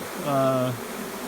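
A honey bee swarm in flight, with one close bee giving a brief tonal buzz that swells and fades over a faint background hum.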